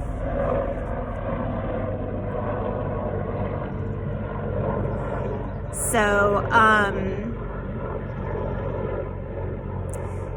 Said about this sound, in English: there's a helicopter flying by. We live near a hospital, so we get a lot of medevac helicopters fly over.